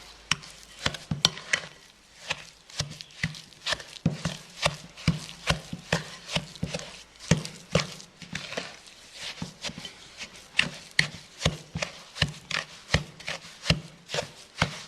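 Sugar and fat being creamed together by hand in a bowl for baking, with steady rhythmic rubbing and scraping strokes repeating about twice a second, close and fairly quiet, no voices.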